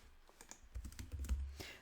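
Rapid clicking keystrokes on a computer keyboard while entering Java code, a quiet, irregular run of taps that grows busier midway, heard alone and close.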